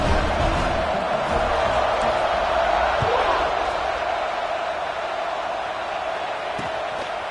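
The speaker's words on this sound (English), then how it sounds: "this crowd is feeling themselves after that last drive" Stadium crowd in a college football video game, a steady loud roar of cheering throughout with no breaks.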